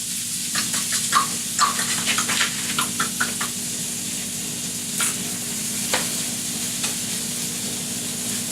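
A cheeseburger patty sizzles steadily in a hot pan while pepperjack cheese melts on top, a close continuous frying hiss with scattered crackles and light pops.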